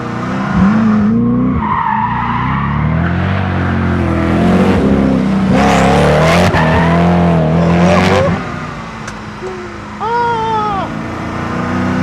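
A Koenigsegg Agera R driven hard around a small track, its engine roaring loudly up and down through the revs with squealing, skidding tires, close and continuous for the whole stretch before a brief dip.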